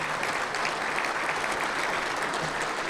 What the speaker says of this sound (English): Just a round of applause to the council and the mayor